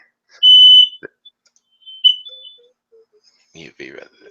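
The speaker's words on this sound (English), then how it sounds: "There's a fire alarm." Fire alarm sounding during a test, a sharp high electronic tone near the start followed by a couple of shorter beeps, with people talking briefly near the end.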